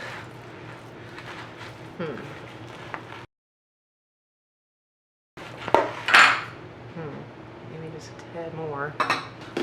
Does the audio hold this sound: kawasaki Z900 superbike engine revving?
no